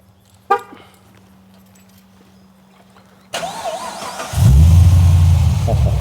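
A 2017 Holden HSV GTSR VF Commodore starts by remote after a few quiet seconds, a sharp crank-and-fire burst that settles into a loud, lumpy, deep idle rumbling steadily close by.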